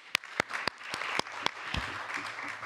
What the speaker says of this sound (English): Please let me clap for them.